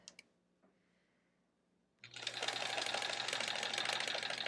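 A vintage 1970s sewing machine starts after a quiet pause with a few faint clicks, then runs loudly and steadily with a dense, continuous mechanical whir and low hum until the end.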